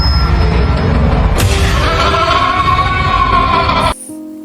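A black goat bleats loudly and close by, a drawn-out wavering cry that runs nearly four seconds before cutting off abruptly into quiet.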